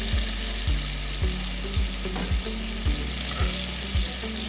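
Food fries in a pan with a steady, moderate sizzle, while regular low thumps recur about twice a second beneath the hiss, close by.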